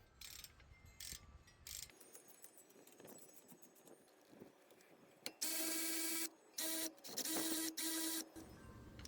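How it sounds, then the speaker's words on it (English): Ratcheting tool turns a 7mm hex bit to loosen the caliper guide pin bolts on the front brakes of a 2015 B7 Volkswagen Passat TDI, giving bursts of close, loud mechanical clicking with short pauses between them. "Use the 7mm hex bit to loosen both of the caliper guide pin bolts."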